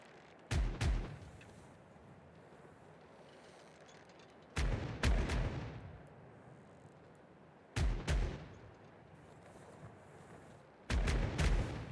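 Ship cannon broadsides in the video game Caribbean Legend: four loud bursts of several rapid booming shots each, spaced a few seconds apart, with rumbling decay between volleys.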